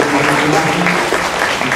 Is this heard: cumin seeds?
no